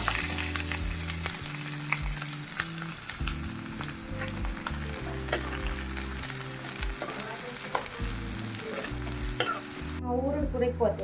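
Onion sizzles in hot oil in a pan in a home kitchen, a steady close frying crackle with repeated stirring scrapes and clinks throughout, and no talking.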